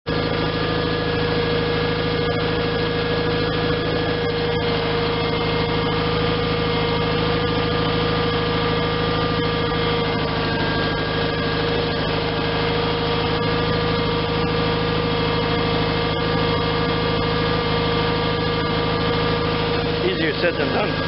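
The Onan engine of a John Deere 318 lawn tractor with a battery charging fault runs steadily, a loud, unbroken close-up drone with a constant hum lasting the whole stretch.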